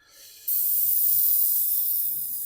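An airbrush in a very basic spray booth blows compressed air, a steady bright hiss that starts abruptly and holds at an even level, close and alone.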